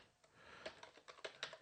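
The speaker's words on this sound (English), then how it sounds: "keyboard" Quiet typing on a computer keyboard, a run of irregular soft key clicks heard close and alone.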